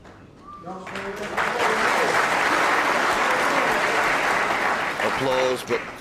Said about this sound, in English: Applause, but Stephen won't be happy with that one